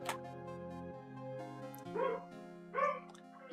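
Dogs give a few scattered barks and yips over a sustained droning musical backdrop, with two clearer bark bursts standing out near the end.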